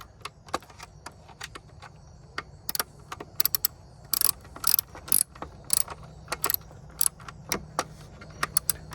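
A ratchet clicks in short irregular bursts as it turns a stubborn bolt on a BMW 530i E39 engine, crisp metallic ticks close by with brief pauses between strokes.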